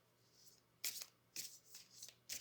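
Tarot cards are handled and shuffled for a reading, three or four quick, close riffling bursts of crisp papery flutter separated by brief pauses, fairly faint and with no talk.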